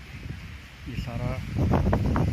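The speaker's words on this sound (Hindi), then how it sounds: "फ़ोन भी नहीं पकड़ा जा रहा, इतनी तेज़ हवा है" Strong wind buffets a phone microphone on a 10th-floor balcony during a dust storm, a loud, continuous low rumble that swells toward the end while someone talks over it.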